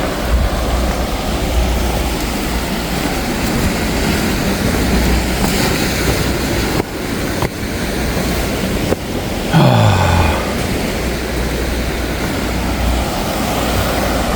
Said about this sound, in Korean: 여기 부서지는 파도 한번 보입시오